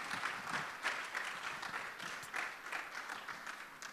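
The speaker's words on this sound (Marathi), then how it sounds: "Let us clap our hands and let's welcome our senior pastor" A church congregation at a Sunday service claps to welcome the senior pastor, rhythmic group clapping in repeated bursts, moderately distant and fairly faint.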